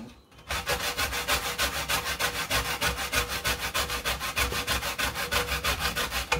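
A stick of Jamaican chocolate is rubbed against a grater in fast, steady back-and-forth rasping strokes, about five per second, loud and close with no speech.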